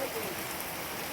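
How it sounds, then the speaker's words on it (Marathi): Heavy monsoon rain pours over farm fields, a steady dense hiss filling the short stretch without pause, close and constant. "ते बघा किती पाऊस आहे."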